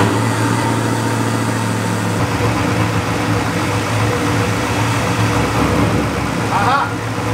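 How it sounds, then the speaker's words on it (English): LS-swapped BMW E36 running on E85 flex fuel, a loud, steady engine drone close by that shifts slightly as it settles into a rough idle, with a brief higher sound near the end. "If I start the car, it might work."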